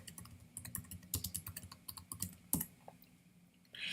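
Someone types on a computer keyboard: a quick, steady patter of close, soft key clicks with a few heavier taps, continuous and without talk.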